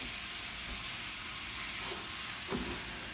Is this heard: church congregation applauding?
no